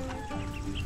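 A chicken clucks close by in a brief, continuous burst with a low rasping tone.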